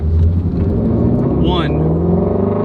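Ford Mustang GT350R fitted with an AWE Switch Path exhaust, revving with a loud, deep, steady rumble held close for a couple of seconds, a brief higher whine sweeping through the middle.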